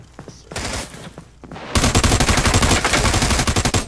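Rapid automatic gunfire in a shooting video game, beginning with scattered shots and then a dense, loud, sustained burst of evenly spaced rounds close up.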